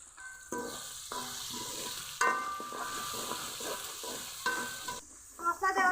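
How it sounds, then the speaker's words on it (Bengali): Onion, tomato and pasta spices sizzle in a frying pan while being stirred, with a steady hiss of frying broken by scraping stirring strokes, close up and without talking. "পেঁয়াজ টমেটো কিছুক্ষণ ভেজে নিয়েছি, এখন দিয়ে দিব পাস্তার মশলা।"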